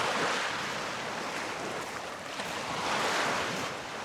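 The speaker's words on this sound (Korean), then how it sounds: "마치 바다처럼 파도가 칩니다." Waves breaking on the shore of a large lake, a continuous broadband wash of surf that swells and eases with wind noise on the microphone, heard alone without talk.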